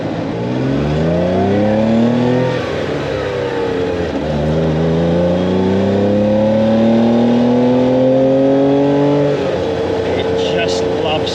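A Porsche 911 with a 2.2-litre engine pulls hard on the road, its rising engine note climbing through gears in two long sweeps with a brief dip between, loud and close, with people talking over it.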